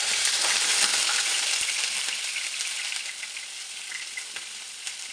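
Ghee and oil sizzle steadily in a pan while eggplant masala is started, a loud, dense, continuous hiss that eases slightly over time, with a few faint stirring clicks and no voices.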